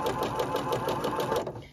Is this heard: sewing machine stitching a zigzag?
yes